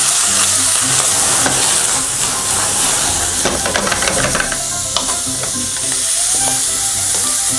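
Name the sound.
sausages sizzling in a hot pan with oil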